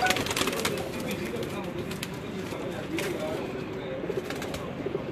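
Pigeons cooing on a rooftop, soft low coos under steady outdoor background noise, with people talking nearby.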